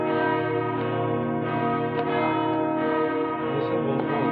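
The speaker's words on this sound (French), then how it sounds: "Nous sommes à la fête aujourd'hui. Nous avons droit aux cloches." Church bells ring for a feast day, a continuous rich peal of overlapping tolls sounding loud and close. No voices can be heard.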